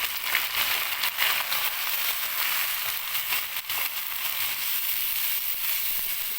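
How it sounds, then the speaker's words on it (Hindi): Ground onion paste frying in a pan with onions already browned golden for potato kofta curry, a loud continuous hissing sizzle with crackling bursts, close and without speech. "अब इसमें हम जो ग्राइंड हुई हुई प्याज है वो डालेंगे।"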